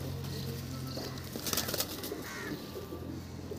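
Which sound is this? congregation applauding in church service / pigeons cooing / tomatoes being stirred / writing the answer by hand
pigeons cooing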